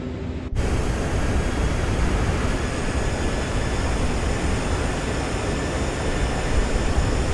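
Lufthansa A340-300 airliner taxiing in a flight simulator, its engines giving a steady, loud broadband roar that holds evenly for several seconds after a sudden start.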